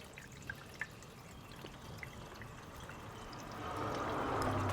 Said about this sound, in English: So we're going to fill it with water first because we're just checking for leaks.